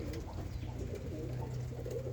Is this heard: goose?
no